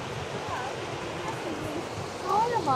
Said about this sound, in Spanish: ahorita ya menos llegamos ahí donde está la cascada, donde cae el chorro